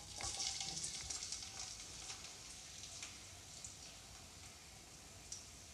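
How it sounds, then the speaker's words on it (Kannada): Crushed garlic drops into hot oil and sizzles with a steady, soft crackling hiss that fades slightly over several seconds, heard alone and close. "ಈ ರೀತಿ ಕುಟ್ಟಿ ಇಟ್ಕೊಂಡಿರೋ ಬೆಳ್ಳುಳ್ಳಿನ ಎಣ್ಣೆ ಒಳಗೆ ಹಾಕೋನು"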